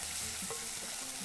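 Tomato paste being stirred in a frying pan, a faint even sizzle with soft scraping and stirring sounds, quiet and close.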